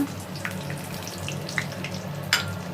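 Cumin seeds and bay leaves sizzle in hot oil for a Bengali fish curry, a steady close frying hiss with a few sharp pops and crackles.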